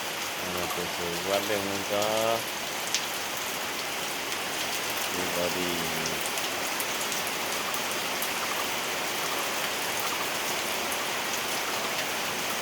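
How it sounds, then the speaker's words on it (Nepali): Heavy monsoon rain pours down in a steady, dense roar that runs the whole time. A voice speaks briefly over it near the start. "पानी दरर परिरहेछ झमझम पानी"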